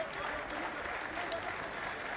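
A football crowd at a Portugal versus Germany under-20 international applauds with a broad, steady wash of clapping and murmuring that holds at an even level throughout and never peaks.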